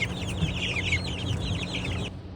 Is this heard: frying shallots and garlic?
no